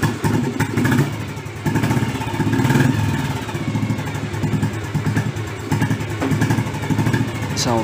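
A restored 1987 Bullet motorcycle, an old Kerala model, runs up close with a steady, heavy low thump and a few small rises in throttle. A voice can be heard briefly over the engine.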